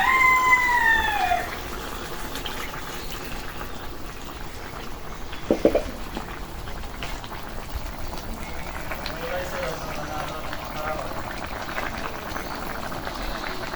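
Bele river fish simmering in a pot with broad bean pods, a soft steady bubbling and sizzle throughout, a brief clink midway and a faint rooster crow early on, with a person speaking.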